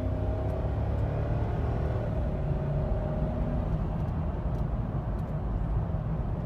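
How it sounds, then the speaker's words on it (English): A 2003 Lexus GX470 V8 accelerates, a steady low engine rumble with a gently rising tone, heard from inside the cabin. "it's got a pretty nice sound to it in accelerating"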